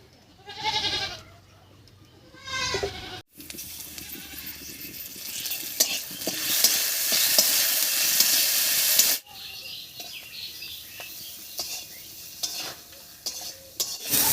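Garlic and green chillies frying in mustard oil in a pan, a loud steady sizzle with stirring scrapes through the middle, broken by short pauses and quieter stretches at the start and end.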